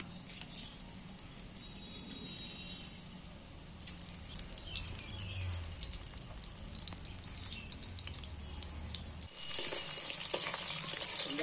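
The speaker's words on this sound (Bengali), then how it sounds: "এবার বাকিগুলো আমি এই তেলের মধ্যে তুলে দিচ্ছি" Chicken pakoras frying in hot oil, a continuous hissing sizzle that grows louder and brighter toward the end, with light stirring and splattering sounds and no talking.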